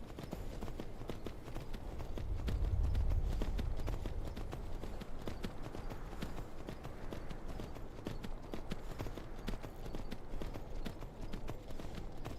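Horse hooves clip-clop steadily in the video game Skyrim, a rhythmic walking gait close by with a brief low rumble partway through and faint voice sounds in the background.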